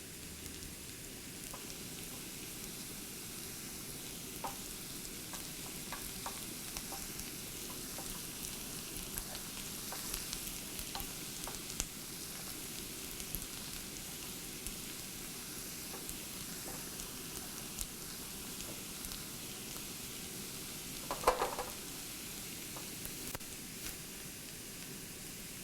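Ingredients for Iranian ash reshteh fry gently in oil in a pan, a steady soft sizzle lasting throughout at low level with a few faint clicks and one brief louder clatter near the end; no one speaks.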